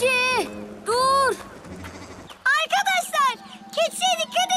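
A cartoon goat gives a few loud, wavering bleats, close and clear, mixed in among excited cartoon voices shouting and talking.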